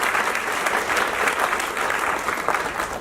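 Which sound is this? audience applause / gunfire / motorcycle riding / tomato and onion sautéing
audience applause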